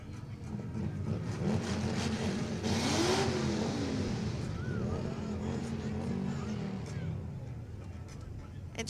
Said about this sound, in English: This amazing race car right here.